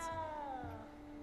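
A cat in the Hogwarts Legacy video game gives one drawn-out meow that falls slightly in pitch. It sounds clear and close over a quiet game background.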